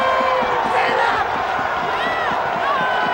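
A crowd cheers and roars after the final whistle of a Manurewa versus Papakura rugby league grand final, a dense sustained swell of voices with whoops rising above it.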